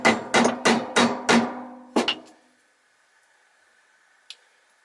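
Hammer tapping a dusty vacuum cleaner pulley held in a vise during a Numatic Henry HVC200 strip-down: five quick sharp metallic blows, then two more and a faint tap after a pause, close and loud.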